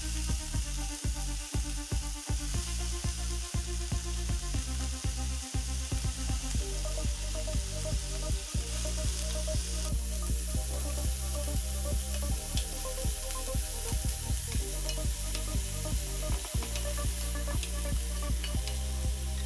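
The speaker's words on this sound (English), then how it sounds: "First come the onions that we're just going to move around the pan to get warm." Onions frying in oil in a pan and being pushed around, a constant near sizzle with a steady hum beneath and frequent clicks and scrapes of stirring, continuing for the whole stretch without speech.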